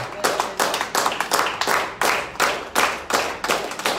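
A church congregation claps together in a strong, fast, regular rhythm of bright, close handclaps that comes in bursts, with no voices clearly heard.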